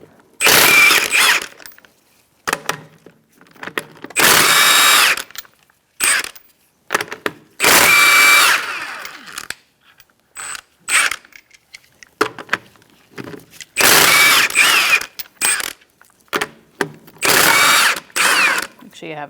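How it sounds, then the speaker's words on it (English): A power tool with a 21mm socket removes Mazda 3 lug nuts, running in loud, close bursts of ratcheting whir separated by short pauses and clicks, with quiet talk in between. "Using a 21mm socket, we're going to remove our lug nuts"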